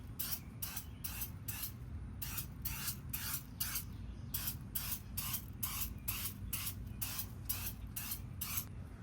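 Black Magic aerosol tire shine sprayed onto a car's back tires outdoors at dusk, a steady run of short hissing bursts, about sixteen in quick succession with brief gaps, close and clear over a low background rumble.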